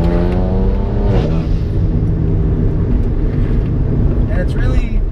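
A BMW 335is twin-turbo engine drops a gear and accelerates, its pitch rising in a clear harmonic sweep that dips at the shift and climbs again, loud and close inside the car.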